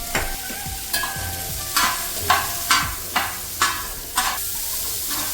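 Chopped carrots, beans, cauliflower and green peas sizzle in a pan for tawa veg pulao, while a spoon stirs them in roughly regular scraping strokes over a constant close hiss.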